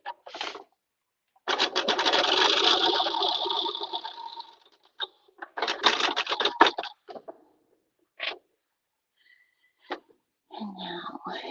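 Domestic sewing machine stitching culottes made from a thrifted tablecloth, running in bursts of a few seconds with pauses between, the longest run near the start and shorter stitches after, close and moderately loud.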